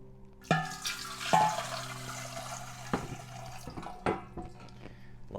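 Trub and yeast slurry poured from a vessel during homebrewing, a wet splashing and gurgling pour with a few sharp clinks and knocks, close and fairly quiet, no talking.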